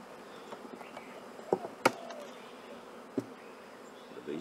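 Honey bees buzz around the brood frames of a five-frame nucleus colony box in the tropics, a faint continuous hum close by, with a few brief knocks from handling the frames.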